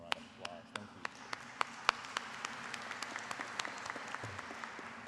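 Applause for university leaders standing on stage at a commencement ceremony, sparse individual claps from a modest crowd in a large space, fairly faint and scattered over a low murmur of voices.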